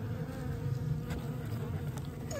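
Bees and the occasional wasp buzzing around an opened hive of a dead colony, a close continuous droning hum with individual insects passing near.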